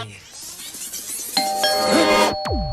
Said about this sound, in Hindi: अरे जब भी ये घंटी बजती है कोई ना कोई मुसीबत जरूर आती है